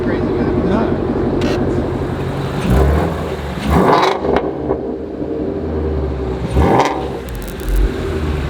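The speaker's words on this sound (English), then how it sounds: "rev it up if you want to." The engine of a Ford GT350R revs up and down in repeated swells, loud and close, with a steady rumble between the pulls and people talking over it.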